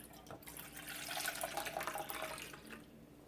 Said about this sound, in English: I have 1 cup of water and 1 cup of whole milk. So I'm going to pour that in first.